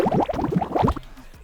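Bubbling water sampled in an experimental jazz beat: close, rapid watery plops and gurgles for about a second, then the bubbling stops abruptly and leaves quiet.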